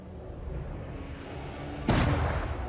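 Long-range artillery and mortar fire in a D-Day battle scene at Omaha Beach, a low rumbling background followed by one sharp, loud blast near the end.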